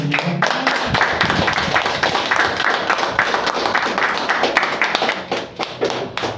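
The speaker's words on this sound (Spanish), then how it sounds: "dale un aplauso al Señor" A church congregation claps together during a sermon in a dense, steady patter of applause that carries on for several seconds.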